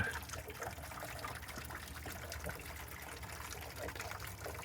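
Water draining steadily out of the water heater of a Casita camper, a continuous close trickling and splashing that stays even in level throughout, with no other sound on top.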